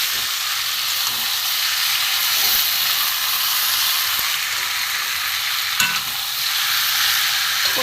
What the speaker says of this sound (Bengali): মশলা দিয়ে মাখানো চিকেনটা আমি এবার কষবো